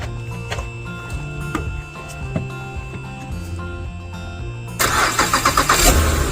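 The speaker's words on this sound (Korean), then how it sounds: "그 다음 시동을 걸어주세요" A car engine is jump-started with a SINZUOO SC-3000A PLUS jump starter in cold weather. A steady hum gives way to loud, close cranking pulses that catch and run near the end.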